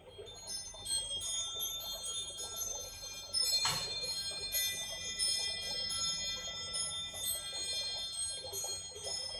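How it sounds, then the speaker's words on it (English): A bright chime rings out once, clearly, during a quiet spiritual clearing ritual that calls in guides. Its metallic tone lingers and fades over soft tonal ringing in a calm room. "We'll do that with a chime."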